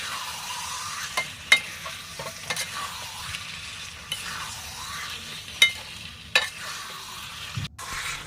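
Mutton sautéing in a pan with salt, a steady sizzle broken by repeated clinks and scrapes of a spatula stirring the meat, close and clear, with no voices.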